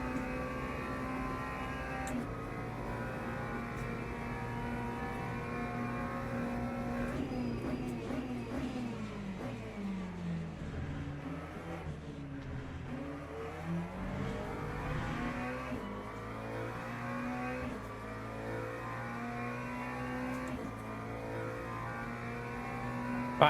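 A race car engine in Le Mans Ultimate drones steadily throughout, its pitch rising and falling as it revs up and eases off through corners, with no talk over it.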